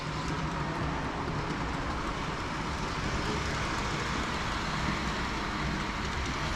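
A Hornby model train set runs after a button is pressed at a visitor centre, giving a steady, dense rumbling whir that holds constant throughout with no pauses.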